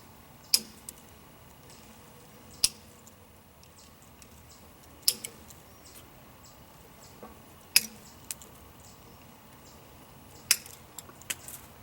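Mini bolt cutters snip through chain link fence, giving a few sharp, isolated metallic snaps spaced a couple of seconds apart over a quiet background.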